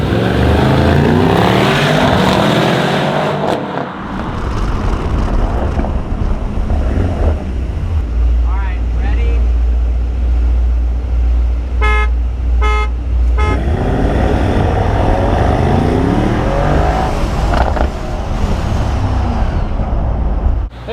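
A 2018 BMW M5 and a Mercedes-AMG E63S launch in a drag race, with loud engine roar building and sustained, a rush of wind noise, and a short run of horn toots midway.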